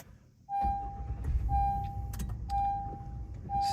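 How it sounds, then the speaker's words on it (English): A 2016-2018 Honda Pilot fitted with an auto idle stop/start eliminator starts up after about half a second, then settles into a steady idle rumble while a dashboard chime tone sounds several times. "Now we'll start it back up like we're just getting in the car in the morning."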